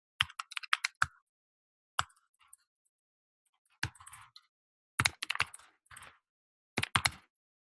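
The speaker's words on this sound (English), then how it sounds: "So let me type up mine." Typing on a computer keyboard, quick bursts of crisp close key clicks separated by short silent pauses.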